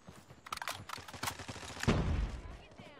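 Type 63 rifle fire in a ranked video game match, a quick cluster of close, punchy shots followed by a heavier boom, with a voice partly talking over the action.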